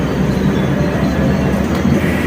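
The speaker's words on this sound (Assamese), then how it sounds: "এয়া হ'ল ৰাজধানী এক্সপ্ৰেছ ট্ৰেইনখন" Loud, continuous rumble of the Rajdhani Express passenger train rolling along the rails from Dibrugarh, wheels clattering steadily close by, with no voices.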